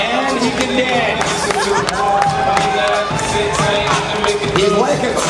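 Spectators at a belly flop contest roar and cheer wildly in a continuous dense wash of voices, with someone talking loudly over the crowd.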